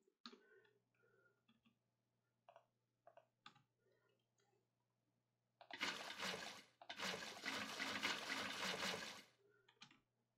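Water placed in Minecraft gushes in two loud, close bursts of splashing flow, preceded by scattered quiet clicks and taps of block placement.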